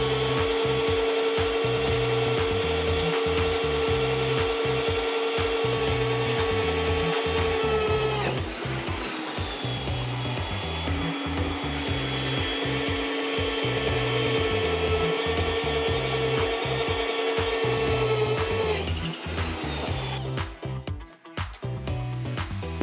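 An HSS drill bit boring a series of holes at 600 RPM, a steady whining grind with a tonal hum that breaks off briefly between holes and resumes, loud and close with no voices.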